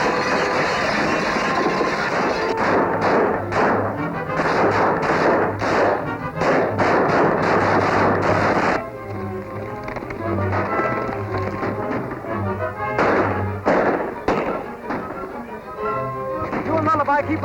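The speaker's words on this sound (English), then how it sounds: "Shoot over their heads." Gunshots fired over riders' heads in a 1936 western, sharp cracks in irregular bursts over galloping hoofbeats and a steady background rumble.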